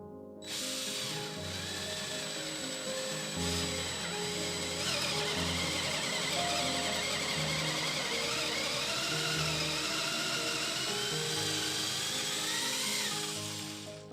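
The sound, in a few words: power drill drilling into wall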